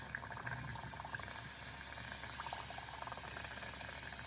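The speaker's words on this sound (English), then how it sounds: "I believe our oil is hot enough and we're going in 2 or 3 at a time." Egg rolls deep frying in hot oil, two at a time, giving a steady, dense bubbling sizzle that stays even throughout, close but fairly quiet, with no voices.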